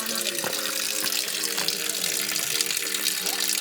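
Natural spring water flows steadily at Tiger Spring Point in Mahabaleshwar, a continuous close splashing stream like a running tap, with faint voices mixed in beneath it.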